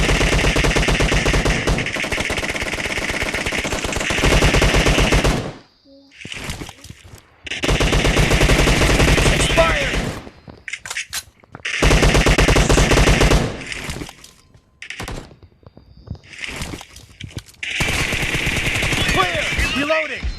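Gunfire in a shooter video game team match, bursts of rapid automatic fire that are loud and dense, broken by short silent gaps and quieter stretches, with brief in-game voice callouts between volleys.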